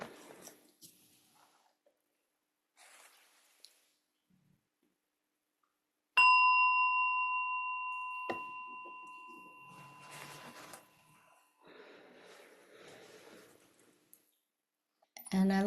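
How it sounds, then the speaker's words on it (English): A meditation bell is struck once during a quiet community healing gathering, ringing out with a clear tone that decays slowly over several seconds, surrounded by near silence and soft rustling. "I'm going to be inviting the bell."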